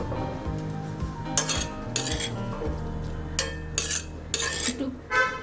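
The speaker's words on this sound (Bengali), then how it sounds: "তেলটা গরম হয়ে গেছে, এতে আমি কচুগুলো আর আলুগুলো" Taro and potato pieces fry over low flame in mustard oil, a low sizzle under repeated clinks and scrapes of a metal spoon against the pan, coming in short bursts.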